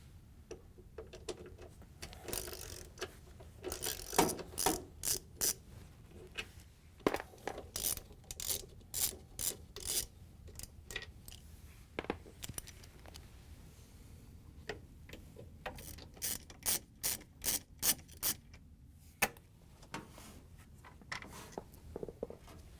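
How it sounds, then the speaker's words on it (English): A socket wrench on an extension turning out the drive motor bolts of a Frigidaire/Electrolux washer, making quick runs of sharp ratchet clicks in bursts with short pauses between them, close up and quiet. "We're going to use a socket with an extension to get the 2 front ones here"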